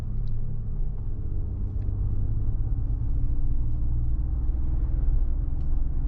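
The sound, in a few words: Mercedes-AMG G-Class engine sound while accelerating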